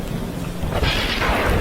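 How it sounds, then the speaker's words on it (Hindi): A cartoon thunderclap rumbles loudly over steady rain, swelling into a broad crashing roar partway through and sustaining to the end, with no voices. "बिजली जोर जोर से कड़कने लगती है"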